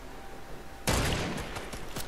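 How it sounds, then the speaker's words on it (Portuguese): Sudden burst of rapid gunfire in Fortnite breaking out of near silence, a sustained volley of close, loud shots followed by a few separate sharp cracks. "Quem que tá atirando?"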